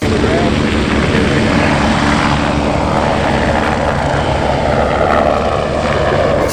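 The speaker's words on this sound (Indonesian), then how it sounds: "nah lihat teman-teman di sini ada helikopter" A toy helicopter gives a steady, loud whir with a droning rotor and engine noise that fills the whole stretch without pause.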